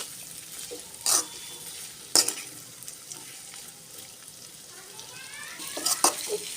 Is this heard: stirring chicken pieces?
yes